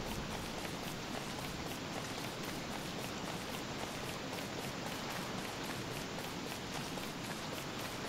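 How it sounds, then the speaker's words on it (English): Steady, dense rain from the video game Don't Starve pours on without a break, a loud, even hiss of falling drops on surfaces filling the whole stretch with no voices over it. "This rain sounds really loud."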